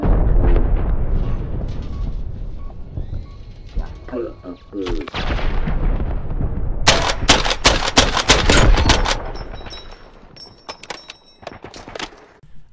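An AS Val rifle with SPP 10-round magazines firing in Call of Duty, with loud, close rapid bursts of gunfire packed together and sharp shots trailing off, amid other game sounds.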